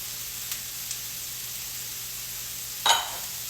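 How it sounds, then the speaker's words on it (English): Tomatoes with a pinch of salt sautéing in a hot pan, a faint even hiss of frying with a few light ticks and one brief louder clatter near the end, no one talking. "let me saute these up for a minute"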